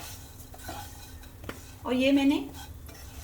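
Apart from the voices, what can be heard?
raw vermicelli being stirred and roasted in hot oil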